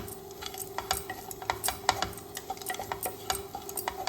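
Roasted peanuts being stirred into coconut rice in a pan: repeated close scraping and tapping of a spoon against metal over a faint sizzle, no talking.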